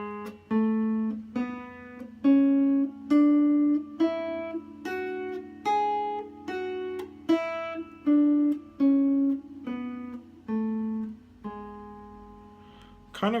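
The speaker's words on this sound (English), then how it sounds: "our seventh shape, which is the Locrian mode or Locrian mode" A guitar plays the Locrian mode scale one note at a time, each clean, sustained pick ringing out clearly in a slow, even sequence going up and then back down, close and alone without any talk.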